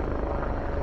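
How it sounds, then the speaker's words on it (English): A helicopter passes over the promenade at the foot of Blackpool Tower, heard as a steady, loud rotor drone for just under a second with no talk. "Got a helicopter coming over now."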